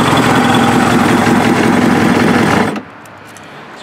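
A Kawasaki ZX7R sport motorcycle engine, modified and fitted with 41 mm flat slide carbs and custom jetting, runs loud with a dense, steady buzzing roar up close, then cuts off abruptly near the end.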